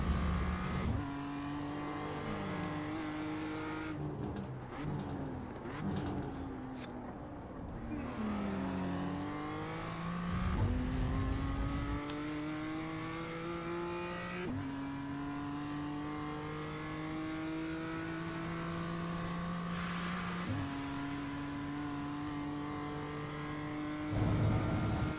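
A BMW M2 race car lapping the Navarra circuit in the iRacing sim, its engine droning steadily and climbing through gears in repeated rising sweeps, with downshifts and braking dips between them and faint tire squeal, with no voices.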